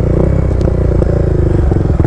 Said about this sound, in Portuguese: Vou dar uma aceleradinha pra vocês aí